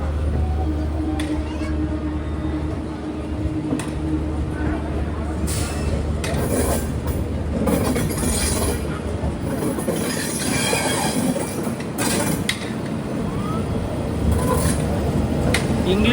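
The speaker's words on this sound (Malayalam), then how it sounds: "ട്രെയിൻ ഇപ്പോൾ ഇതാ ഹൗഡ ജംഗ്ഷനിലേക്ക് എത്തുകയാണ്" A general-class passenger train from Jamshedpur rolls into Howrah Junction, wheels squealing and rumbling continuously over the rails, with carriage clatter and faint voices aboard.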